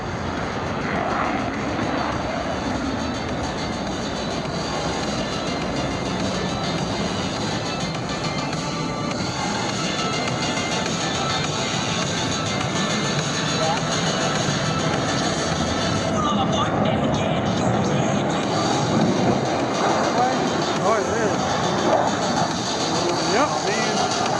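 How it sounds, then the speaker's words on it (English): A US Navy F/A-18 Super Hornet jet at an air show demonstration, climbing steeply, gives off a loud, continuous broadband engine roar that holds steady throughout, and an announcer's voice is mixed in. "pull back on the stick, point the aircraft to nearly maximum performance climb"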